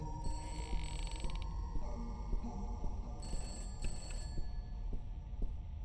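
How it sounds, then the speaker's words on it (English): Telephone ringing in the Peters House video game, repeated bursts of a bell-like ring over a steady low background hum, with no talk. "I gotta go answer the phone."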